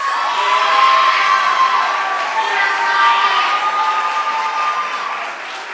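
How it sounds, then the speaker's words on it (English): An audience at a school awards chapel applauding and cheering, a sustained wash of clapping and voices that swells early and slowly tapers over several seconds. "Would you guys give a round of applause to Ryan Kelch?"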